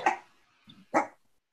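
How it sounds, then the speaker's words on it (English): A miniature dachshund gives two short, fairly faint barks about a second apart, with a soft whimpering note between them and no speech over it. "A little miniature dachshund. Cute. And he's barking at a wall for some reason."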